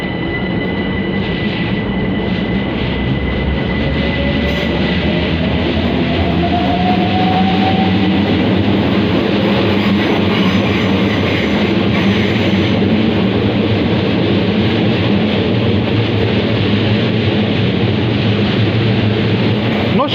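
A Class 375 electric train rolls in from Tunbridge at London Bridge station, a loud, continuous rumble and hum of wheels and traction that holds steady throughout, with no voices.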